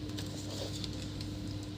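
Rapid light patter of keys being pressed on a Lenovo IdeaPad 320 laptop keyboard during a function test, steady and close over a constant low electrical hum, with no talking.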